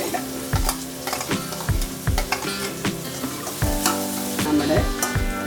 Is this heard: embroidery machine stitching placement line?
no